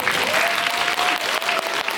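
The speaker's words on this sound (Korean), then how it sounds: "박수 한번 보내주시고요" An audience at a film screening Q&A gives a loud, dense burst of clapping, many hands close and steady for the full two seconds.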